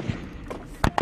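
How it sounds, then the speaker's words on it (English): Incoming gunfire during combat in Afghanistan, heard as a few sharp, loud cracks that land close together near the end after a quieter stretch of dusty background noise. "The incoming intensifies."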